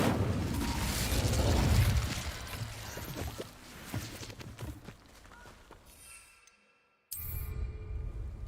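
An Incendio fire spell cast in Hogwarts Legacy: a loud, low burst that roars and gradually fades over several seconds, then a brief silence before another rush of sound.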